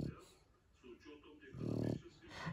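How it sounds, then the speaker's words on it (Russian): A Shar Pei dog snores softly nearby, with a rough, rattling inhale swelling midway, interspersed with breathy snorts; someone speaks over the snoring. "Ты что так храпишь, девка?"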